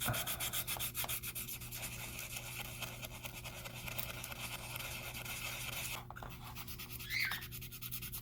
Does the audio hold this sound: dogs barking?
no